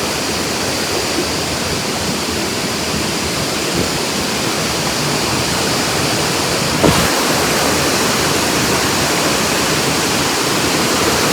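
Olagode Falls in Matte Forest pours steadily, a loud, close, continuous roar of falling water with no pauses, filling the whole stretch alone without any voices.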